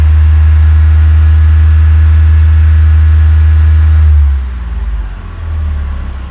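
A 2004 Mitsubishi Pajero GDI engine runs loud and steady at about 3,000 RPM with a strong low drone, then drops off sharply toward a lower, uneven running sound near the end.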